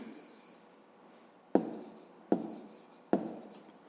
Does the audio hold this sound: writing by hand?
yes